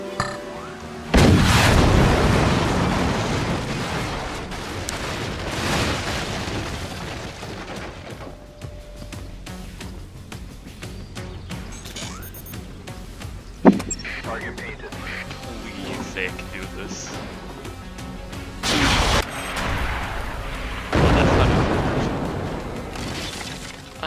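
Booming, crackling explosions like fireworks from the strategy game Forts burst loudly and repeatedly across the stretch, with a player talking over the barrage throughout.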